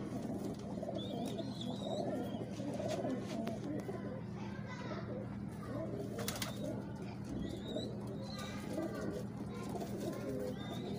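Pigeons of the Imamdeen breed coo softly and repeatedly in a loft, with other bird calls and children's voices in the background throughout.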